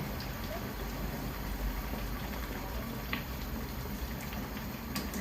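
Kalabasa squash cooks in a pot, giving a steady soft bubbling and simmering hiss with faint scattered pops, continuous and close.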